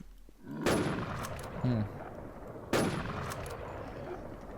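Gunfire aimed at a boss in the NewZ shooter game, two loud sharp shots about two seconds apart, each trailing off into a noisy echoing tail, with a faint short tone between them.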